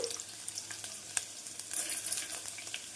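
Tempering spices added to hot oil with onion pieces and dried red chillies crackle and pop against a low continuous sizzle, fairly quiet and close by.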